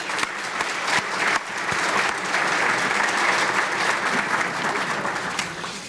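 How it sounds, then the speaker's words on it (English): An audience at a school education foundation hall of fame ceremony claps in sustained, dense applause that fills the hall at a steady level before tapering slightly at the end. "so let's give them a big round of applause as well."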